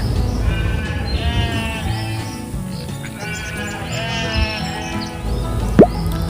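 Sheep in the Hay Day farming game bleat in repeated wavering cries, loud and close over steady game background music, with a short chirp near the end.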